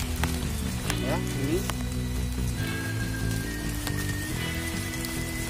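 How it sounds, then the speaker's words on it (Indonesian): Rain falls steadily outdoors at a site where bonsai material is being hunted, a constant hiss of drops on surfaces under a voice and low background hum. "Tiba-tiba sampai di lokasi sudah hujan nih"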